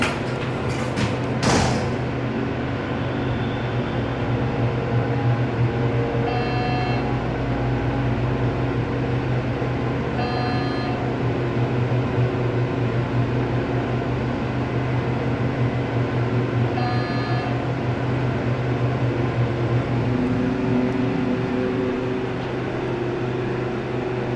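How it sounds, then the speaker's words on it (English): Steady hum of a hydraulic elevator motor running inside a university building's elevator, a constant droning tone with occasional faint clicks and beeps over about twenty-four seconds. "Let's go to 3 and listen to the motor."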